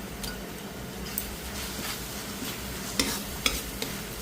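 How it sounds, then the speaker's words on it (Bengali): Tomato goes into onions already fried reddish-brown in a pan, giving a soft, steady sizzle with occasional scraping stirs and light clicks of the utensil, fairly quiet and without talk. "পেঁয়াজগুলো লাল লাল করে ভাজা হয়ে গেছে, তোমাদের সাথে কথা বলতে বলতে এবার দিয়ে দিলাম টমেটো"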